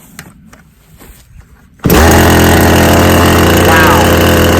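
A small gasoline engine, apparently a handheld power tool, cranks once and catches after its choke is pushed in, then runs loud and steady at a high idle until the end, after a quieter stretch of handling noise.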